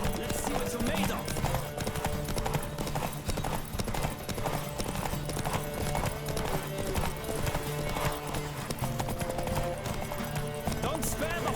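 A horse gallops in The Witcher 3 video game, its quick, steady clip-clop of hooves running unbroken and close for the whole stretch, with other game sounds layered beneath.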